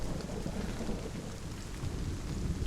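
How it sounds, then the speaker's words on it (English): Rain and rumbling thunder in the video game Hellblade: Senua's Sacrifice, a steady wash of falling rain with low thunder rolling underneath throughout. "Besides just the rain."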